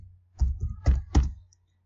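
A few quick, close keystrokes on a computer keyboard while a command is entered, landing in three short bursts before falling quiet.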